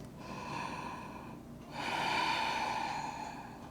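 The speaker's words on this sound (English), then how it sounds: "Breathing in and out." Deep, slow breaths during a yoga flow from downward facing dog: a long inhale then a fuller, louder exhale, close and airy with no talking.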